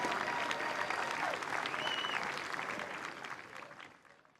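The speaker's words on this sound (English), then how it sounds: "How about a round of applause for Michigan's own Staff Sergeant Emily Perkins." Outdoor crowd applause at a US Army Jazz Ambassadors concert in a park, greeting a singer. Dense, steady clapping fills the clip, loud and close, with faint voices mixed in, then begins to thin and fade toward the end.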